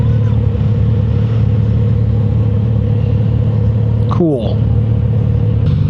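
A Kawasaki Z900 RS motorcycle engine idles and rumbles steadily up close, holding a low, even drone before a brief revving swell as the bike rides off, with a short spoken word over it.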